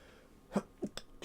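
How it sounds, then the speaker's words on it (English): A man sneezes close to the microphone during a farming game session, a short sequence of quick, sharp bursts of breath and throat noise over about a second, in an otherwise quiet room. "I need to sneeze"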